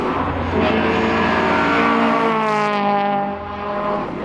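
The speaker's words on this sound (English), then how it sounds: "That's the 5th lap that car has done out here" A BMW E46 M3 engine roars loudly and steadily, revving high as it speeds past close by on a desert lap, with a rising and falling whine throughout.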